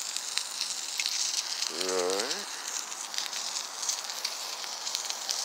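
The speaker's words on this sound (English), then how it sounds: "Got us some sausages going on there." Sausages sizzle over an open fire burning in a trash can, a steady broadband crackle and hiss running throughout with a brief spoken word and a short tonal sound midway.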